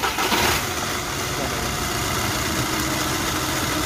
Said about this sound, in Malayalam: അപ്പോൾ ലോങ് ആയിട്ട് കീപ്പ് ഇതാക്കി കഴിഞ്ഞാൽ സ്റ്റാർട്ടാവുന്നു.